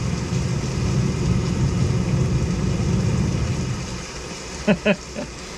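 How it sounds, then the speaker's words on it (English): Steady hiss of rain on a window with rain outside and wind from a white noise generator, a continuous wash that eases near the end before a few short thumps. "So now we have rain on the window, rain outside, and wind"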